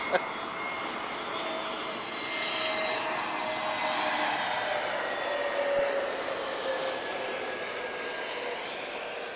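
A Boeing 737-800 jet airliner at Lisbon Airport produces a continuous, broad engine roar that swells gently and then holds steady, heard from some distance outdoors.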